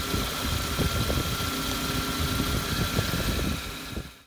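Small lawnmower engine driving a car alternator as a makeshift generator, idling steadily nearby with a continuous rough hum and vibration, then cutting off at the end, no talk.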